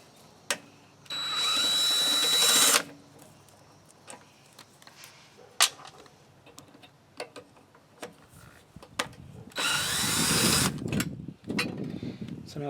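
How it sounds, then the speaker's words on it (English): Bolts holding the carburetor come off a Craftsman EZ Start mower, with two bursts of a power driver whirring alongside scattered metallic clicks and taps. "we can now go ahead and take the two bolts off,"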